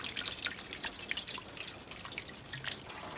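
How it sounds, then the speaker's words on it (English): Rainwater dripping and trickling down a roof gutter toward the downspout, a steady patter of close, crisp drips over a soft continuous wash of water, with no voices. "The water is coming down. See it dripping down."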